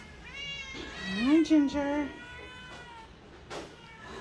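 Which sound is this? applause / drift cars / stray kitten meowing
stray kitten meowing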